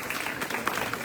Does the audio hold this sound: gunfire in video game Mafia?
no